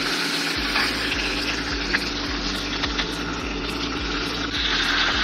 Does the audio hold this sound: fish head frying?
yes